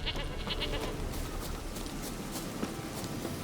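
A goat bleats from a farmyard scene in The Witcher 3, its cry fairly faint and mixed with ambient background noise and a few light hoof-like steps, no talking.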